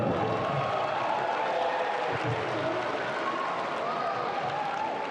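Tennis event crowd at an exhibition in Dubai, loud continuous applause mixed with cheering that fills the whole stretch without a break.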